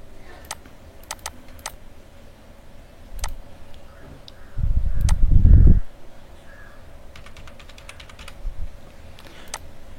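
Scattered keystrokes tap out a password on a computer keyboard, with sharp, sparse clicks spread across the stretch and a brief low thump partway through.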